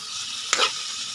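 Oil sizzles steadily in a pan as adobo is sautéed at home, a sharp clatter of stirring cutting in briefly midway through the constant frying hiss.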